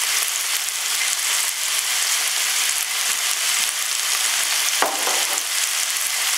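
Mixed vegetables frying in a pan with garlic just added, a loud, close, steady sizzle with occasional stirring scrapes and no voices.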